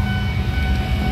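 A train passing near a railway crossing on a project road, heard as a steady, loud low rumble with rail noise and no voices.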